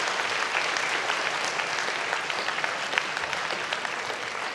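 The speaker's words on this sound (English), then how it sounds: "Let's give all of our speakers, our presenters, a great round of applause." A conference audience at a legal panel event in Tyler claps steadily for the speakers and presenters, a dense, even wash of many hands sustained from start to finish at close range.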